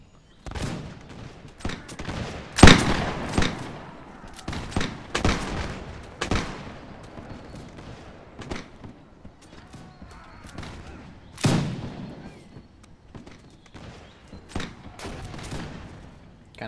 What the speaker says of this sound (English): Cannon shot.